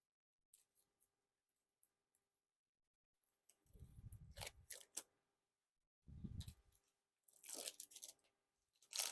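Cellophane wrapping is torn and peeled off a Gold Luxury Noc playing card deck in a quiet room, heard as several short, close crinkling and crackling bursts separated by silences.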